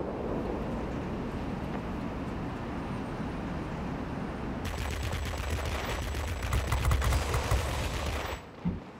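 The guns of a BV P.215.02 jet fire in World of Warplanes, a steady rattling machine-gun stream lasting several seconds over a constant engine drone before stopping.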